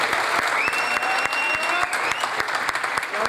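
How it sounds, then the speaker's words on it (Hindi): A crowd at an LBP show event in Gujranwala claps steadily to welcome chief guest Naveed Shaikh to the stage, a dense, sustained applause with brief voices and whoops mixed in. "तो मेरी सब दोस्तों से रिक्वेस्ट है कि अपनी भरपूर तालियों में शेख साहब को वेलकम करें।"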